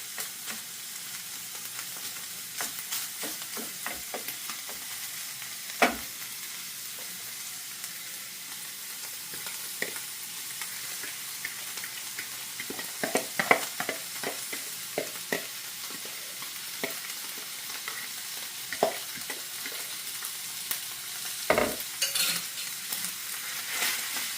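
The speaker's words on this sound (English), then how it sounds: "This is a ground pork. You can see the skillet getting hot. Trying to break them as much as I can." Ground pork fries in a hot skillet with a constant close hiss, broken by scattered crackles and sharp spatula scrapes against the pan as the meat is broken apart.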